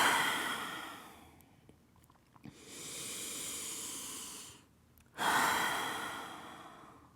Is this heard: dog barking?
no